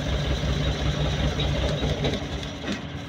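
A Suzuki Multicab engine running during a spark plug test, giving off a loud, steady, rough rumble with faint rattling clicks throughout and no talking.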